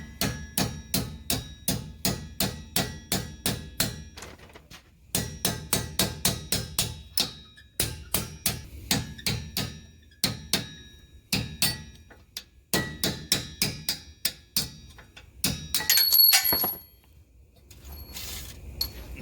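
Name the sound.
hammering a punch to drive out a Porsche Cayenne brake pad pin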